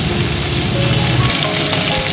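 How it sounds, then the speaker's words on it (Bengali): Crab pieces fry in hot mustard oil, producing a loud, close, steady sizzle with a bubbling spatter that continues on its own without talk. "কাঁকড়াটা দিয়ে আমি 2 মিনিটের মতন একটু ভেজে নেব।"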